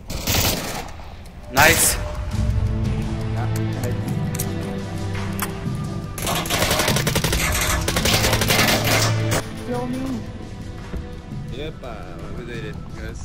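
Gunfire in the VR shooter Pavlov: loud volleys of shots crack throughout, including a sharp burst near the start and sustained firing mid-way, with players talking over the fighting.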